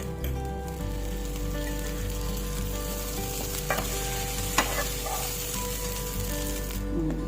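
A half teaspoon of butter sizzles on a very hot pan while cooking stuffed bread bajji, a constant close hiss over a low hum, with a couple of small clicks and no voices.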